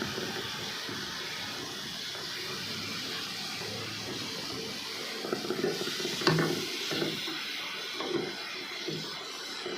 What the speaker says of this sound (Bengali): টমেটোটা দেওয়ার পর এবার আবার নেড়ে চেড়ে আবার ঢাকা দিয়ে দেবো